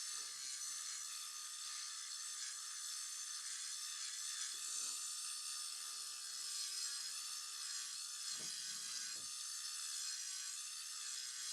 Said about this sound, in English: Here I need to file it a little bit more just because I've got those excess of the skin